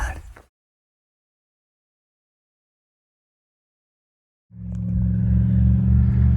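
A loud, low airboat motor drone kicks in after several seconds of near silence and runs steadily close by, with a brief noise at the very start, on Florida's Suwannee River.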